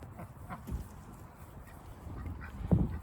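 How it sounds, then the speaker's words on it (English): Ducks outdoors give a few brief, scattered quacks at moderate distance over a low background rumble, with the loudest call near the end. "Hey, ducks."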